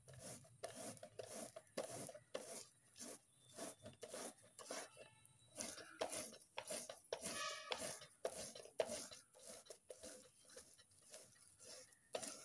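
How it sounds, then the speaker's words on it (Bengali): A palm fruit seed is rubbed hard against a basket over a bowl to pull out its pulp, a rapid repeated rasping scrape, close and fairly quiet, in quick rhythmic strokes. "গামলার উপরে ঝুড়িটা এরকম করে রেখে তারপরে তালের একটা আটি আমি ঘষে কাঠ বের করে নেব"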